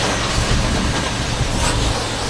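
The drum of a concrete mixer truck turns with a continuous close, loud rumble and rattling clatter.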